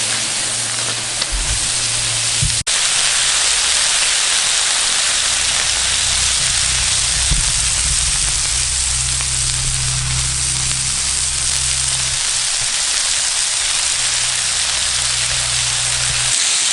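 Beef koftas sizzle on a campfire BBQ plate outdoors, a loud, continuous hissing crackle with a low rumble underneath, heard close up and without talk.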